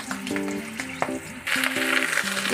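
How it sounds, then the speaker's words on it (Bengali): Green chillies sizzling in hot oil with nigella seeds, a steady crackling hiss broken by a few sharper pops, with a low hum running underneath and the sizzle growing louder partway through. "তেলটা গরম হয়ে গেছে একেবারে। এই 2-3টে কাঁচা লঙ্কা দিয়ে দিলাম"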